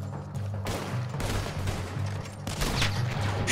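Gunfire in Red Dead Redemption 2, loud repeated shots cracking in quick bursts over dense continuous game noise and music.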